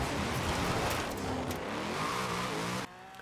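An off-road buggy with nearly 1,800 horsepower in Forza Horizon 4, its engine revving hard and climbing in pitch as it accelerates, loud and close, before cutting off abruptly near the end.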